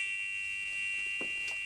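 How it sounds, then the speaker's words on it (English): A church entry buzzer sounding as someone enters, a steady electronic tone held throughout, fairly loud and continuous, with faint knocks and shuffles in the background. "a buzzer went off, telling him that someone was entering the church"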